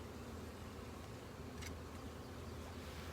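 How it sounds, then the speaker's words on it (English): A honey bee buzzes close by during a hive inspection, a soft, steady drone under low background noise with a brief brighter flick partway through. "Got a little bee on my hand here."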